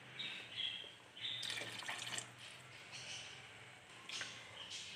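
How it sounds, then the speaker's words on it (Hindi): Water is poured into a pot of rice for chana biryani, a faint splashing trickle with a few brighter spills, heard quietly with no talk. "थोड़ा सा पानी हम और ऐड करेंगे"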